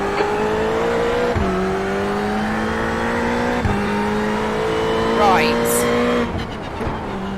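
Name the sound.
Ferrari race car engine and tire squeal in iRacing video game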